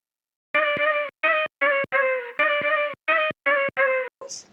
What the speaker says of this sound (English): I chopped up this sample which we used in the intro and this is how it sounds.